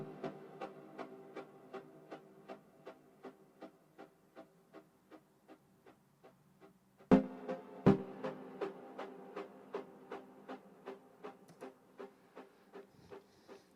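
Synth lead patch from the Logic ES2 synthesizer, with oscillators two and three pitched up three and seven semitones so each note sounds as a minor chord, playing a steady repeating run of short plucked chords, with two sharp louder hits near the middle.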